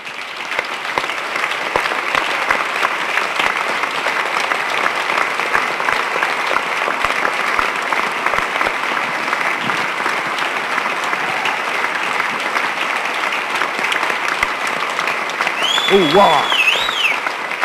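A large audience at a veterans' welcome-home ceremony breaks into sustained, dense applause that holds steady and loud throughout, with a few voices exclaiming over the clapping near the end.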